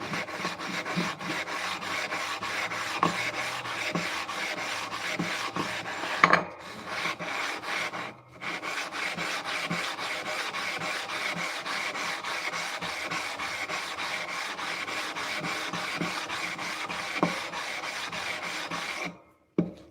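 A crusty 8000 grit sharpening stone is flattened with steady back-and-forth rubbing strokes, a continuous close gritty rasp with brief pauses, no talking.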